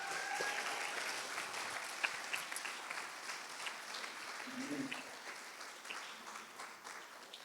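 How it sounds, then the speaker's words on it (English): Wedding guests applaud after the reception speeches, a sustained round of clapping from a crowd in a hall, with a few voices and a cheer mixed in before it slowly tapers off. "How about a round of applause?"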